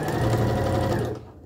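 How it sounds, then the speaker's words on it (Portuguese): Sewing machine stitching patchwork fabric scraps for a quick border, a steady, loud mechanical whir of the needle running continuously close up before easing off at the end. "e você já pode passar a costura"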